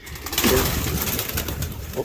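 Pigeons coo softly among a flock, low throaty calls repeating under steady outdoor background noise, with a brief faint flutter of movement nearby.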